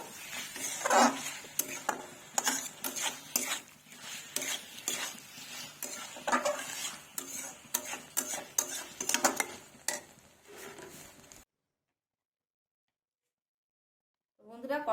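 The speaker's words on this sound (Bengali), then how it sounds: "দিয়ে নেড়ে চেড়ে আমি নামিয়ে ফেলবো" A spoon stirs curry with chopped coriander in a metal pan, making a close series of irregular scraping clinks over a light sizzle. It stops abruptly and leaves silence near the end.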